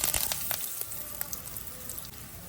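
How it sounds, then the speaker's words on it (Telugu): Mustard seeds, cumin, black gram, curry leaves and asafoetida tempering in hot oil in a pan, giving a steady close sizzle and crackle with scattered sharp pops throughout. "ఇప్పుడు ఇందులో పోపులు వేస్తున్నాను చూడండి"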